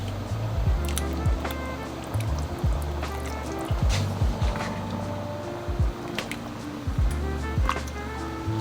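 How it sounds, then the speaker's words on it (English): Heavy whipping cream, about half a cup, poured into a pot of lasagna soup with beef broth, giving soft liquid gurgles and squishy trickling in repeated low pulses, close and fairly quiet. "Going with about a half a cup of heavy whipping cream."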